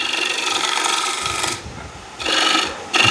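A woodturning tool cuts into spinning wood on a lathe, pushed toward the headstock: a loud continuous scraping rasp that drops away briefly, then returns in two more close bursts.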